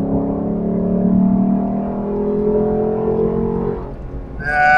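A 2018 Lexus LC500 sports car engine revs and pulls steadily under acceleration, loud and close, its tone climbing before easing near the end.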